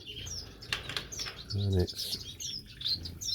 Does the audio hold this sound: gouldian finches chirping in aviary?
yes